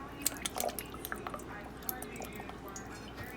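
Teriyaki and soy sauce marinade with a little Worcestershire sauce is poured, giving faint close drips and wet splashes over a quiet background.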